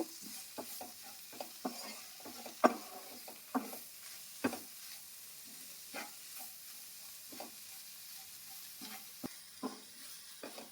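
A spicy flour curry seasoned with chilli powder and salt is stirred in a pan: quiet, irregular spoon clicks and scrapes against the metal over a faint, soft sizzle, with no talking.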